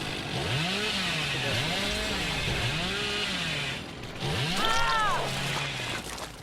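The killer Billy's chainsaw roars in a video game, revving again and again in rising and falling swoops. It dips briefly, then surges back loud and close over a steady background drone.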